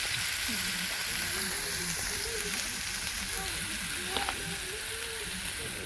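Fenugreek and tomatoes hitting hot masala in a pan, a steady bright sizzle and crackle heard nearby, continuing throughout under a voice talking.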